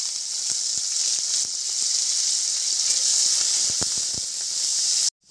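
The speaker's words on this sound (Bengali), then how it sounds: "এই তেলে দিয়ে দিচ্ছি আমি 3টে কাঁচা লঙ্কা, আর দিয়ে দেবো কালো জিরে, আর দিয়ে দেবো থেতো করা রসুন।" Three green chillies, black cumin and crushed garlic sizzle loudly in hot oil, giving a dense, steady frying hiss with faint pops that cuts off abruptly at the end.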